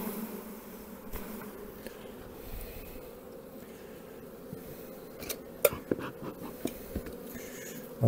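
Honeybees buzzing around a bucket during queen-cell introductions into small nucleus colonies, a steady low hum with scattered sharp clicks and knocks near the end, no talk.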